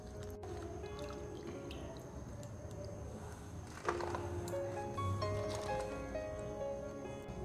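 Chukai fruits being washed in water by hand, with gentle splashing, dripping and squishy handling sounds over a constant background hum, one brief louder clatter partway through, close and moderately quiet.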